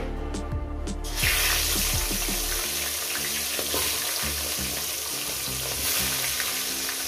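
Katla fish heads sizzle steadily in hot salted oil, a dense continuous crackle with occasional clinks and stirring scrapes near the start, no voices.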